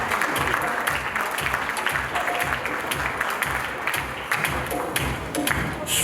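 Audience applauding at the Miss Mauritius pageant as a runner-up is announced, sustained crowd clapping with distinct nearby hand claps and thuds standing out over the steady background applause.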